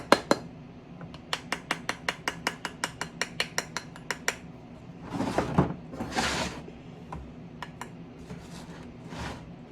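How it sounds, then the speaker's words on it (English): Someone raps a 3D printed cauldron-shaped bath bomb mold about seventeen times in quick, evenly spaced sharp taps. Two longer scraping, sliding sounds follow as the mold is shaken. "we're going to have to do the shimmy shake to get this out of here, right? So some taps"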